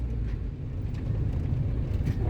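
Low, steady road rumble from a car on a test drive after a brake pipe repair, a muffled, continuous hum with faint tyre and engine noise and no talking.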